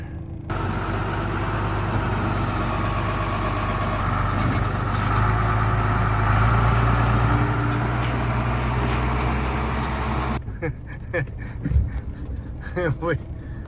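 An old van nicknamed for its smoke labors up a steep hill, its engine droning loud and strained for about ten seconds before cutting off, leaving quieter outdoor noise and a voice.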